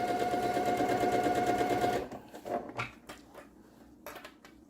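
A sewing machine stitches a quilt in a close, steady run for about two seconds and then stops, leaving a few soft handling clicks and rustles.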